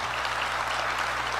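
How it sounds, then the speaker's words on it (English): Audience applause fills a large arena at a live finance talk show event, a dense steady wash of clapping with a low hum underneath, no voices standing out. "Clap it up for that."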